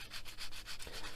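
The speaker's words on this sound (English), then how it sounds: "I'll go over with my rough sanding stick just to get rid of any burrs" A rough sanding stick rubbed back and forth over a plastic Warhammer 40K model kitbash part, giving soft rhythmic scratchy strokes, close and quiet.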